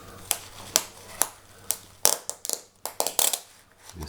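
Scissors snip through packing or dressing material during first aid, giving a series of sharp, close clicks and crunches, sparse at first and then quicker, with no talking.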